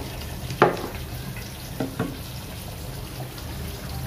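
A duck curry made with homemade spice masala is stirred in a frying pan, giving a soft steady sizzle with a couple of brief scraping clicks from the spoon near the start.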